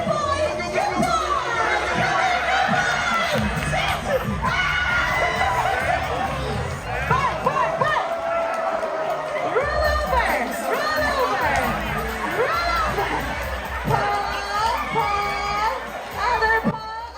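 A large crowd at a Royal Caribbean cruise ship show chatters and cheers in a loud, dense, continuous hubbub, with shouts and voices rising throughout.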